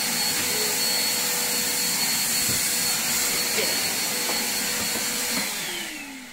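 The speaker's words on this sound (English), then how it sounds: "Making such a massive point of hoovering here, Mike." A household vacuum cleaner hoovers indoors with a loud, steady whining roar that holds for several seconds and then begins to fade as it powers down.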